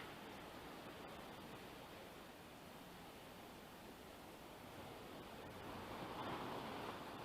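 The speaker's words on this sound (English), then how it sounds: "Check out the waves here." Ocean surf at San Juan, Puerto Rico roars steadily in a continuous broadband wash, swelling louder near the end as a bigger wave crashes on shore; no voices.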